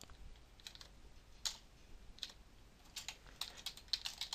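Keys clatter on a computer keyboard as a Java program is typed, brief clicks in uneven bursts and pauses, close and fairly quiet with no talk.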